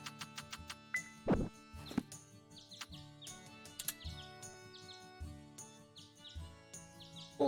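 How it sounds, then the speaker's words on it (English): Little birds chirp in a farming video game, with quick high tweets scattered over a soft looping melody and gentle plucked tones. "Little birds."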